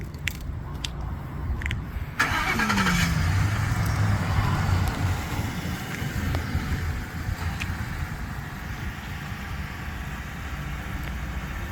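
A vehicle is driven away by a reserve officer, heard as a steady engine and road rumble that swells as it pulls off and then stays constant, fairly loud and close, with no voices.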